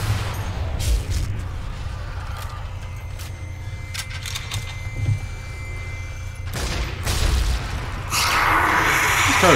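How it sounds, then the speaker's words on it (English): Slow-motion explosions in a zombie video game, booming bursts and crackling blasts over a rumbling low end, with sharp impacts scattered across the clip and a louder, denser blast near the end. "It doesn't hit anything, but it still explodes."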